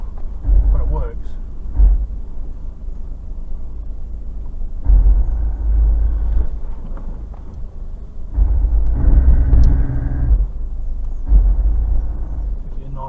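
Low rumbling and grinding from a 4WD's hill descent control braking on a steep downhill track in the Bendleby Ranges, South Australia, coming in loud surges with pauses between them, close and dominant.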